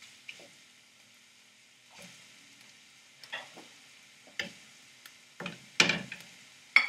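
Minced meat is stirred and broken up in a frying pan over lowered heat: quiet background with a series of separate scraping and tapping strokes that grow louder toward the end.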